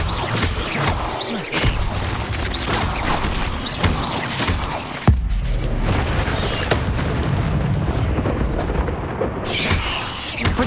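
Booming magical blasts from the Confringo explosion spell in Hogwarts Legacy, dense and loud, with a sharp burst near the middle and continuous rumbling combat noise throughout.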